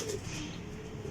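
Pigeons kept on a rooftop loft in Lahore, Pakistan, coo softly and steadily throughout, with low murmuring calls overlapping in a continuous, close-by rumble and no talking.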